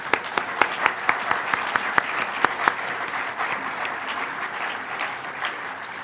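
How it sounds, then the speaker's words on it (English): An audience at a hacker conference applauds with steady clapping across the whole stretch, a few sharp individual claps standing out near the start, fairly loud and with no talking. "So let's have a round of applause for Bell Labs."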